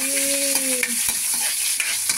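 Chicken curry sizzles and bubbles steadily in a hot pan over high flame, a constant crackling hiss with a few clinks of a utensil stirring.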